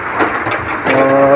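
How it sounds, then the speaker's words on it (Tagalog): Heavy rain and strong wind during a typhoon, a loud steady wash of rain noise with gusting swells, close and continuous, no talk. "Mahirap mag-vlog at lakas ang hangin, lakas ang ulan."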